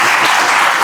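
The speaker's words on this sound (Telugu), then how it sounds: "చప్పట్లు పెట్టి ప్రభు నామమున" A church congregation applauding in praise, a dense burst of clapping that fills the moment loudly and evenly, with no speech over it.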